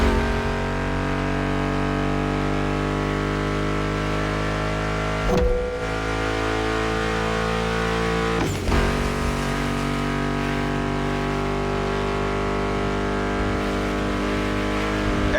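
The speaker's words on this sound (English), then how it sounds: "Meshes well with the sound of the engines, you feel me?" Muscle car engines in The Crew Motorfest, a steady loud droning hum with sustained tonal layers, briefly dipping twice, running continuously without talk.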